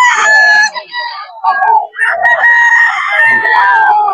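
A young bullstag rooster at the Bocaue pet market crows loudly and close by, drawing out long strained calls in several bursts, with some voices talking in the background.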